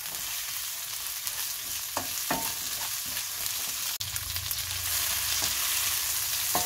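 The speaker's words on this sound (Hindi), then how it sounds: "और अभी इसके साथ ही हम इसमें ऐड करते हैं बेल पेपर्स। इसको 2 मिनट के लिए हम फ्राई कर लेंगे।" Bell peppers stir-fry with chicken in a hot pan, a constant bright sizzle with occasional spatula scrapes and one sharp click, growing louder and fuller toward the end, without any talking.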